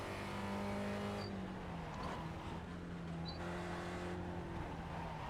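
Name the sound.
Spec Racer Ford race car engine in iRacing video game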